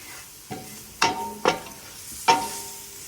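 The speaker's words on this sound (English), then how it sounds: "I'm going to mix that in and just kind of stir that in until it disappears." A spoon stirs flour into a cheese broccoli soup, giving four distinct scraping clinks against the pot at irregular intervals over a faint sizzle, close and alone.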